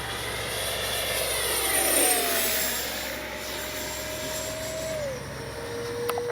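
A Freewing 70mm F9F Panther RC jet flies high overhead, its ducted-fan whine holding steady and sliding downward in pitch as it passes through a dive and levels out, with no talking.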